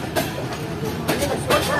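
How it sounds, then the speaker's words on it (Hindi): Karachi Express passenger train passing close by, its coaches producing a rumbling roll with repeated rhythmic clacks and rattles, loud throughout the short stretch. "ये मे बी कराची एक्सप्रेस है, 16 डाउन।"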